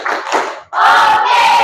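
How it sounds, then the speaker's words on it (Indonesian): Schoolchildren in a vocational high school classroom clap their hands along to a group action song, a steady burst of crowd clapping that pauses briefly and then resumes louder and fuller. "Kau suka hati, tepuk tangan."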